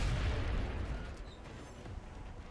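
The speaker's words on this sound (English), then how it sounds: "She has no shot, so she chooses to go for a frag grenade instead." A frag grenade goes off in XCOM: Enemy Unknown, a single heavy boom at the start that rumbles and decays over a couple of seconds.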